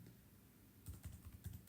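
A short, faint burst of computer keyboard typing while entering an Excel function, several close keystrokes in a quick uneven cluster with no voice.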